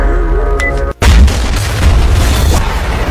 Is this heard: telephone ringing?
no